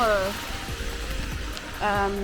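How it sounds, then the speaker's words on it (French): Rain patters steadily on a large umbrella on a Tokyo street, a soft continuous hiss under a voice that talks at the start and again near the end. "Je sais pas si vous allez m'entendre, mais il pleut."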